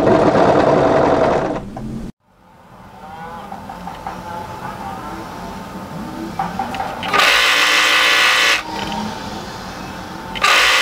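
An overlocker sews a seam through knit fabric pieces for a turtleneck tunic, its fast motor whirring loudly in bursts that stop and restart, separated by quieter stretches of faint handling noise, with no talking.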